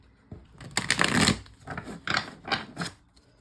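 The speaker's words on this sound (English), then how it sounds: "So I'm just gonna shuffle for a moment." Playing cards riffled and shuffled in several quick bursts, crisp papery flutters close by with short pauses between them.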